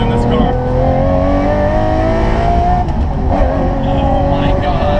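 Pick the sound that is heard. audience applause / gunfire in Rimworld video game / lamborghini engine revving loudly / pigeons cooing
lamborghini engine revving loudly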